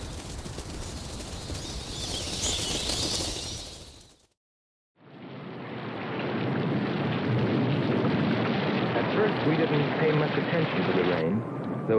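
Heavy rain and thunder from the soundtrack of the film Voyage to the Planet of Prehistoric Women: a dense roaring downpour breaks off into brief silence, then returns as a loud, steady wash.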